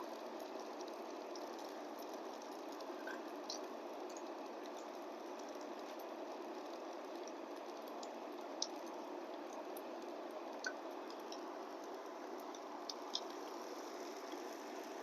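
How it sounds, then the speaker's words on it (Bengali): Vegetable kebabs fry in hot oil, producing a steady, even sizzle throughout, with occasional faint pops and crackles rising over it. "এভাবে আমি সবকটি তেলে ভেজে নিব।"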